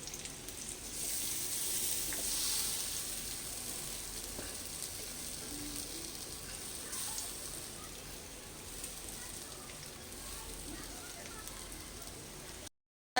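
Rice frying with ginger and raisins in oil and ghee for a sweet festive pulao, a dense, even sizzle like light rain holding steady throughout, somewhat loud, with no talking.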